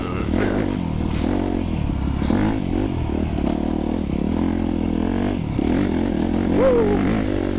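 A 2025 Honda CRF250R Works Edition dirt bike ridden along icy single track, its engine droning steadily close up with revving surges and some clatter, while the rider talks over it.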